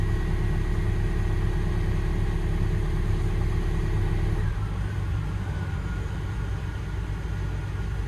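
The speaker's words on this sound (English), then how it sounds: "It's weird listening to that engine." A new DX25 locomotive engine runs steadily with a low, continuous droning hum and tonal whine, its note dropping slightly partway through as the running settles, heard close and without talk.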